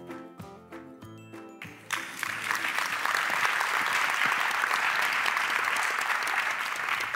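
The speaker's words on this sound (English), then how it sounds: "Thank you all for clapping and giving the energy" Audience applause at an award ceremony swells into sustained, dense clapping that fills the room and holds steady after a brief musical opening.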